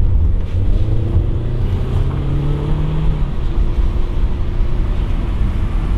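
A rented Audi A3 turbo drives through a curve, its engine a steady, loud drone with a rising tone and strong wind and road noise throughout.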